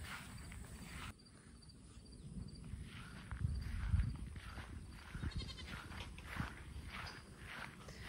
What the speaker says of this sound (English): The goats, really, they don't serve a purpose here.